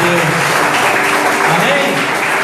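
A church congregation claps in dense, continuous applause to Jesus during a Portuguese-language service, loud and close, with voices mixed into the clapping.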